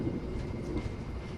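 The inside of a passenger train on an intercity rail trip makes a steady, continuous low rumble and rolling noise throughout, with no talking.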